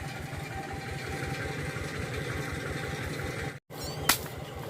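An engine-driven water pump runs nearby with a steady, throbbing low drone, briefly cut off near the end and then resuming, along with a short sharp knock.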